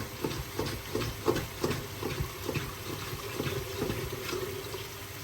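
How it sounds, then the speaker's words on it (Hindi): Water added to masala frying in a pan, a soft bubbling hiss with a string of quick light taps and stirring scrapes, close and fairly quiet. "इसमें थोड़ा थोड़ा पानी डाल के हम भून देंगे"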